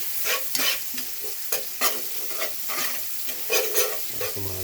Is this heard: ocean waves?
no